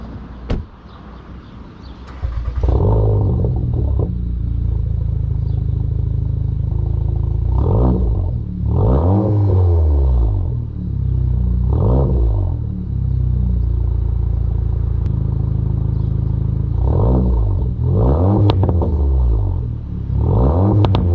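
A Seat Leon Cupra R ST of 300 horsepower revs hard while driving, its engine rising and falling in repeated surging pulls, loud and close inside the car, with brief crackles between bursts.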